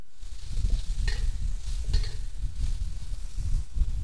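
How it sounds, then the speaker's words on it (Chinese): Chicken shreds stir-fry with bean sprouts and carrots in a pan, a steady soft sizzle broken by a few light scraping stirs, with no talking. "把鸡丝炒熟之后，放入豆芽、红萝卜"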